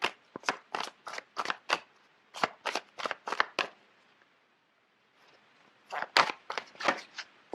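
A deck of tarot cards is shuffled by hand in two runs of quick riffling snaps, a pause of near silence between them, close and fairly quiet.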